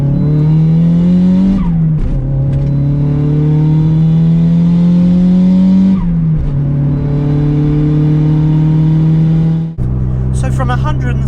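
A Toyota Starlet with a TD04 hybrid turbo and screamer pipe revs hard through the gears, a loud close engine note climbing in pitch, dropping at each shift, then climbing again, with excited voices over it.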